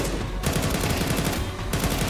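Galil rifle gunfire in Counter-Strike 2, loud and rapid, with shots running together into dense sustained bursts across the whole stretch.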